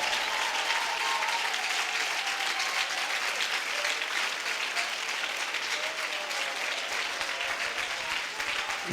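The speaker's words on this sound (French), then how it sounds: "Acclame plus fort." A church congregation claps loudly and continuously, a dense, steady wave of applause with faint voices mixed underneath.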